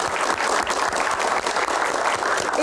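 An audience breaks into sustained applause at a Q&A event, a dense, steady wash of clapping with no talk over it, loud and continuous for the whole stretch.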